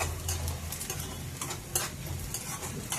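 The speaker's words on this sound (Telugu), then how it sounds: "ఇవన్నీ ఉల్లిపాయ ముక్కలు ఫ్రై అవుతున్నాయి" Onion pieces fry steadily in a pan for a chicken curry, giving a continuous close sizzle with soft stirring scrapes and occasional brighter crackle bursts.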